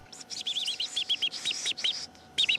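A man imitating bird calls with his voice, producing rapid high chirps and trilling tweets in quick bursts, close and clear with no other sound.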